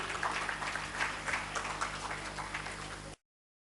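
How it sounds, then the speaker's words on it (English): A seminar audience claps in a steady, moderately faint round of applause that runs evenly for about three seconds and then stops abruptly. "Let's give another round of applause"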